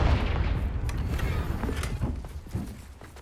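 A Confringo blasting spell in Hogwarts Legacy bursts at the start, a loud low boom that fades into a rumbling, crackling decay with faint clattering.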